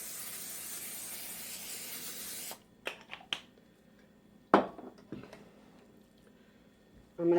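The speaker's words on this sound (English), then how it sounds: "I'm going to spray the pan with cooking spray." Cooking spray hisses from a can onto a pan in a home kitchen, one steady spray lasting about two and a half seconds, followed by quiet with a few clinks and handling taps.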